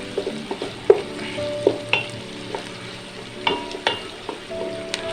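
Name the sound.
stir-frying carrots and onions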